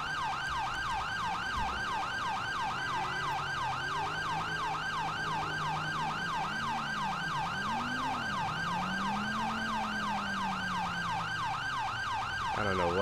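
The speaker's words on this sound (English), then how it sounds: "this siren is getting on my nerves." Wailing fire engine siren from the GTA 5 video game, a loud, steady repeating wail that runs throughout, with a low engine drone rising and falling beneath it.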